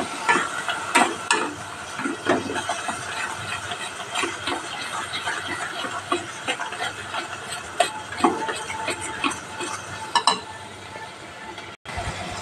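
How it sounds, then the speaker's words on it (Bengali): Spices with sugar and sour yogurt being stirred and fried in hot oil for a Bengali fish curry with black cumin, steady sizzling under repeated scraping and clinks of a spoon against the pan. "এবার এগুলো ভালো করে কষাবো। যতক্ষণ না তেল বেরোচ্ছে ততক্ষণ আমি এটা কষতেই থাকবো।"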